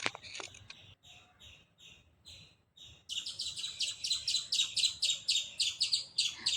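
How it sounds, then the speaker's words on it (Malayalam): A flock of jungle babblers chirps in harsh, rhythmic call bursts. Sparse phrases come first, then a dense, continuous chatter, close and loud, with no talk. "അതിനിടയ്ക്ക് കരിയിലെ കിളികളും കൂട്ടമായി വന്നിട്ടുണ്ട്."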